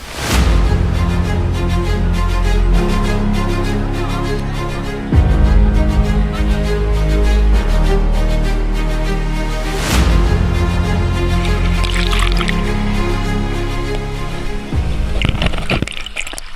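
Waterfall at Sahibganj where people bathe, a loud, continuous rushing roar of falling water that stays steady throughout, with faint bursts of activity near the end.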